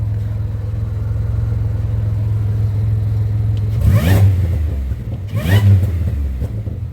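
A Pontiac's engine idles with a steady low rumble, then revs twice in short rising bursts, loud and close in a garage with no talking.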